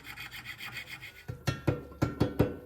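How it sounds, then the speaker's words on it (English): Sandpaper rubs against the camshaft of a 1600cc Type 1 VW engine, first in quick soft strokes, then five or six firmer rasping passes in an even rhythm, close up with no voices. "I'm gonna get some sandpaper and just put this bad boy here"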